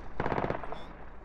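An anti-aircraft gun in the video game SquadOps fires a short, rapid burst of about six loud shots in quick succession, then a brief fading tail.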